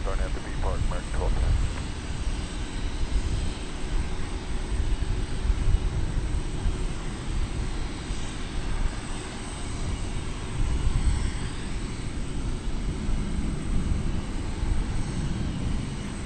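A jet airliner takes off at DFW Airport, its engines a continuous loud broadband roar throughout, with a radio voice talking briefly at the start.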